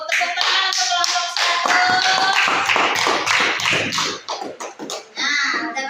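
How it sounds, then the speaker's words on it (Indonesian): Classroom students clapping for a group of classmates, brisk close claps with some irregular taps and a few children's voices mixed in, fading toward the end. "Tepuk tangan untuk kelompok"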